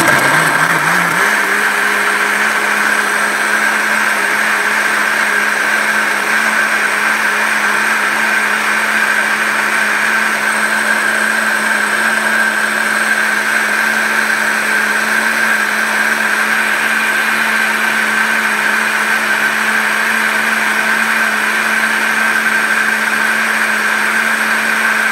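A blender blending dates and water whirs at a steady high-pitched drone for a long stretch, constant and loud with no speech.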